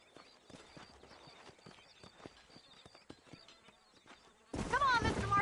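Horses trotting and galloping in a Western video game, a steady patter of hoofbeats at moderate distance under a character's speech, ending in a sudden louder burst of noise.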